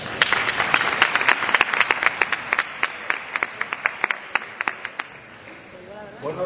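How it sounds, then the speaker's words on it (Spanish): Audience applause at a marketing conference panel, a dense wash of clapping that thins into scattered individual claps and fades out by the end. "Les pido un fuerte aplauso para todos ellos."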